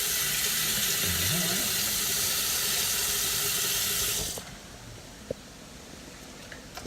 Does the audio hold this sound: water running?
yes